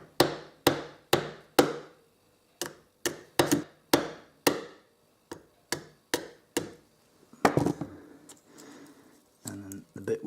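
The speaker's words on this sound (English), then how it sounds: "simply with a mallet or any kind of hammer give it a tap" Sharp wooden knocks of a mallet striking a chisel into spalted wood, about fifteen taps in a steady rhythm, followed by a brief crack as the wood splits and a shuffle near the end.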